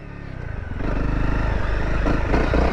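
A 2018 Honda CRF250L motorcycle engine runs close by, a steady throbbing idle that swells slightly and keeps droning with light mechanical clatter, no talking.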